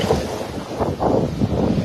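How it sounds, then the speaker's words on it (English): Gusty wind buffets the microphone with a low rumbling roar that swells and eases in uneven waves. "It's so windy."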